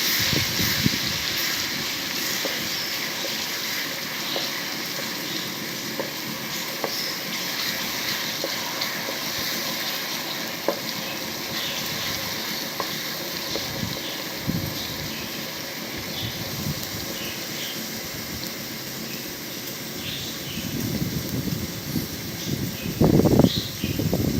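Chopped garlic, ginger and green chillies frying in oil in a pan, a steady crackling sizzle with scattered pops and occasional stirring scrapes, louder clattering near the end.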